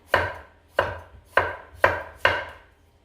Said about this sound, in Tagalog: ganyan lang yung hiwa ng ating kamatis